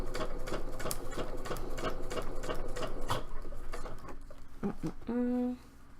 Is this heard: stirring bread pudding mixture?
no